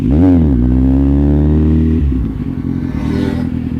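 A Kawasaki Z800 motorcycle engine revs hard for a wheelie, a loud close roar that surges, holds steady, then drops sharply into a rough, lumpy idle.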